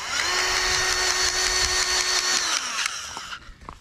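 A hand-held grease gun pumps grease into a fitting on a Case IH 75C tractor loader, giving a loud, steady whirring mechanical drone that runs for a few seconds, then cuts off into a few faint clicks.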